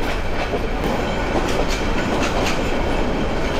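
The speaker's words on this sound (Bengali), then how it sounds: "মাঝখান দিয়ে ট্রেন যাচ্ছে" The Nazirhat local train runs on its tracks with a loud, steady rumble and rhythmic wheel clatter throughout, heard up close with no voices.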